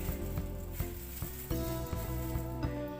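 Chopped ginger dropped into a hot pan for an American-style chicken recipe, giving a steady close sizzle and frying crackle with a few soft bumps as pieces land, no voices.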